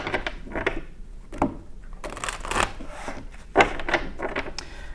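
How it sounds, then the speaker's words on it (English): Tarot cards being shuffled by hand, a series of crisp riffling bursts and soft rubbing slides heard close up, with short gaps between shuffles and no voice over them. "Just get a really good shuffle here for you."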